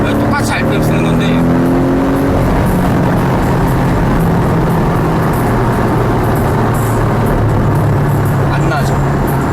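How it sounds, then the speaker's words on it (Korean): Porsche 718 Boxster GTS engine revving under acceleration, a steady loud drone with rising tones early on, while a voice talks throughout. "제가 악셀링 해도 안 나와요"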